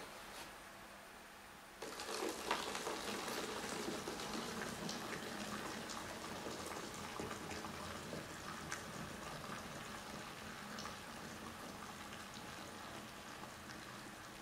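Hot water poured into an empty PET water bottle, a steady trickling, splashing stream starting about two seconds in and running continuously to the end at moderate level.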